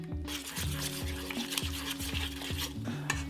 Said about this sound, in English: Add another 50 ml of milk and continue to whisk until it's completely smooth